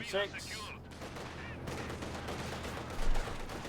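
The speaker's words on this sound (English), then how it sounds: "Lots of tank fires here." Tank cannon and machine gun fire in Company of Heroes 2, a busy battlefield mix of repeated gunshot bursts and heavier booms, loud and continuous with a deep thump near the end, partly under commentary.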